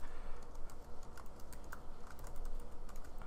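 Steady typing on a computer keyboard while writing an Excel VBA macro: a close, continuous patter of key clicks with no voices.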